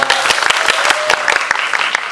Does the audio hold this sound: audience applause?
yes